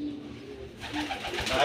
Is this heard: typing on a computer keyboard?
no